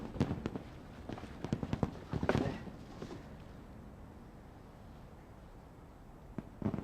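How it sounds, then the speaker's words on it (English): A whiz banger firework goes off on Bonfire Night: a run of sharp crackling pops builds to a louder broadband burst, then fades to quiet before a few more pops close the clip. "It's called a whiz banger."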